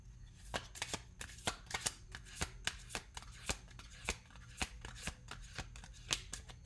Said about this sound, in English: One more shuffle, maybe.